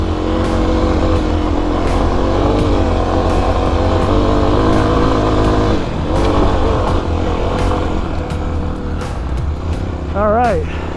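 A Kawasaki KLX250 dirt bike screams in second gear climbing a steep cliff trail, its engine loud and close with sustained high revs and brief dips.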